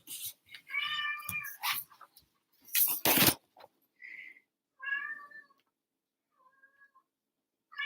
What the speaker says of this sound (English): if you hear the random meowing in the background